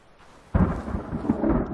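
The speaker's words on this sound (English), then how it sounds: "Hi, Thunder. And Lightning." Thunder in The Forest video game: faint rain-like hiss gives way to a sudden rumbling clap that rolls on with uneven swells through the rest of the moment, no talking.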